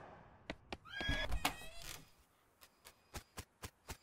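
A horse in the video game West of Loathing gives a loud whinny in the middle of the clip, followed by a steady run of sharp, evenly spaced clopping knocks.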